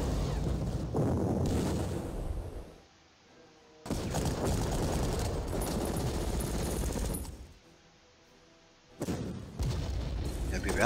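Artillery barrages roar in the Panzer Corps strategy game, heard as two long stretches of dense, loud rumbling gunfire with quiet gaps between them and a third burst starting at the end.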